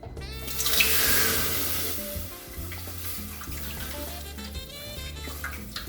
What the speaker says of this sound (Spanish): vamos a agregarle el zumo de naranja por un colador